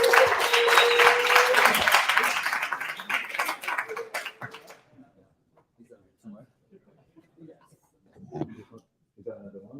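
Applause and cheering from a live audience as a startup team walks onto a course demo-day stage, loud and dense for about four seconds, then fading to scattered claps and light shuffling.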